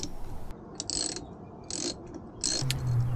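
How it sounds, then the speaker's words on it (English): A hand ratchet tightens the terminal bolts on an electric trolling motor during reassembly, giving three short bursts of rapid clicking close up, each under a second, with a brief low tone near the end. "Bolt the terminals down."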